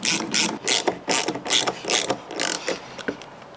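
A ratchet wrench tightening a bolt on a truck tailgate bump stop extension, rapid loud clicking bursts in quick repeated strokes, very close with no talking.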